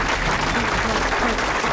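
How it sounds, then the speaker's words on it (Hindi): Dense clapping from a group in a South Indian action film scene, continuous and loud throughout the short stretch. "चलो ताली बजाओ।"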